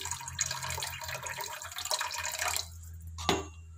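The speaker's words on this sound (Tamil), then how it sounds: "நான் 1 பெரிய கிளாஸால் 1 கிளாஸ் ஊற்றுறேன்." A large glass of water tipped into simmering pepper rasam gives a continuous close pour that stops abruptly, followed by a single drip or clink in near quiet.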